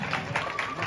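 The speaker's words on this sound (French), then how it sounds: "On applaudit, on applaudit." School awards ceremony audience clapping, a short dense patter of applause from a crowd, with voices mixed in.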